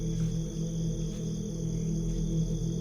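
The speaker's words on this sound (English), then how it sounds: "Crickets chirped, trees swayed, and owls hooted." Crickets chirp steadily in a forest at night, a constant high trill over a low, humming background with no pauses.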